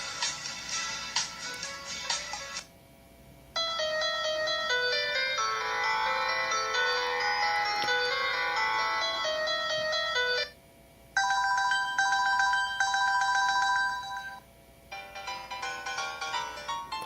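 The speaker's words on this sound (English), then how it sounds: "It's got quite a few musical ringtone jingles on here." Musical ringtone jingles play from a Pantech Ease mobile phone, several distinct melodic tunes in turn with brief silent gaps between them, clear and close with no talking.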